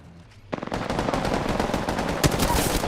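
Rapid automatic gunfire in a video game, a loud sustained burst of closely spaced shots starting after a brief quiet lead-in, with one heavier bang near the end.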